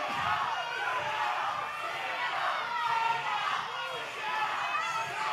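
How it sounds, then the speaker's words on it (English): Wrestling crowd at a live OVW show chanting in rolling waves, a steady mass of voices rising and falling together at moderate distance, with a commentator talking over it. "the crowd's all chanting for who we wanted to see"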